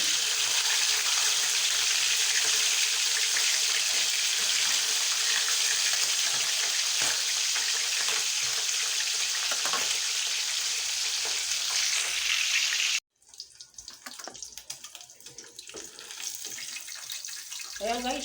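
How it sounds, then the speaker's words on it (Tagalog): Oil sizzles loudly and steadily as milkfish fries in a pan, then the crackle drops off suddenly and continues more quietly and unevenly. "prito tayo ng bangus"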